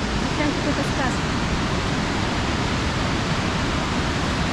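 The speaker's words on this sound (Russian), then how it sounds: "Вот это, видишь, ручеёк течёт?" A small mountain stream flows in the Caucasus of Ossetia, a loud continuous rushing wash of water close by with no breaks.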